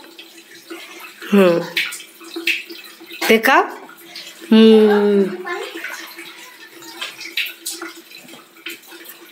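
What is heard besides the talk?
water running while child rinses mouth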